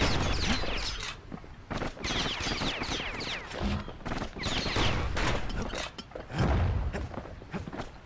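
Gunshots in the video game Bastion, a series of loud, close blasts and impacts in irregular bursts, with clattering mechanical sounds between them and no talk.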